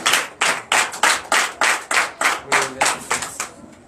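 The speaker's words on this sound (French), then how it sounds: "Au nom de Jésus, acclame Jésus." A church congregation claps in unison during a Sunday worship service in Benin, about eight sharp, evenly spaced bursts of hand claps close by, with faint voices beneath.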